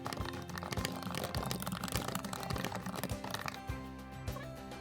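Quick, steady keystrokes tap on a computer keyboard as full paragraphs are typed, a close, even patter with faint background music.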